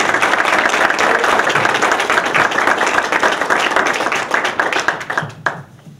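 Sustained applause from an audience after a talk, dense and fairly loud clapping filling the room for about five seconds before thinning out and stopping.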